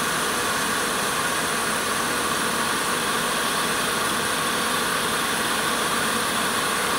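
A wood lathe turns a spinning workpiece while a lathe knife rides the bevel and shaves a cut, giving a steady, even whirring rush with a low rumble and no voices.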